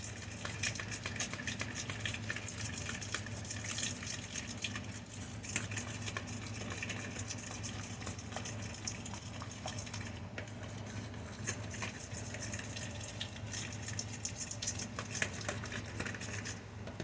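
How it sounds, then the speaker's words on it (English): Spoon stirring a crockpot cheesy chicken mixture, with steady scraping and clinking of the utensil against the pot that runs throughout, close and moderately loud with no talking. "Mix it up really good."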